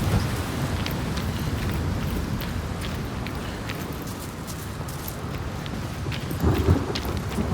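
Steady heavy rain hisses throughout in the video game Senua's Saga: Hellblade 2, with low rumbling thunder beneath and a brief louder thump near the end.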